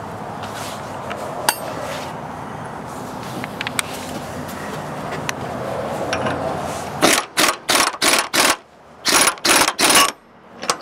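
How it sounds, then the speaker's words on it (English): A bolt-type puller works a tapered SS100 bell crank arm off its steering shaft, first with a steady grinding, ratcheting turn, then a run of loud, sharp metallic clacks and clicks in quick bursts as the arm breaks loose nearby. "Let's go ahead and use the puller on it since we have the puller."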